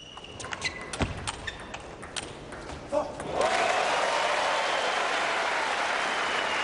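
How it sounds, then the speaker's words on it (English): At the men's table tennis World Cup final between Samsonov and Chen Qi, scattered knocks and thuds give way to a sudden, sustained crowd roar and applause that swells and holds loud to the end. "Huge roar from the crowd."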